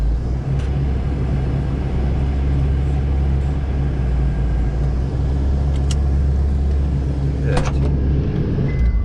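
A Ford Festiva's engine runs in a steady, loud low rumble close by throughout, with a few faint clicks and knocks on top.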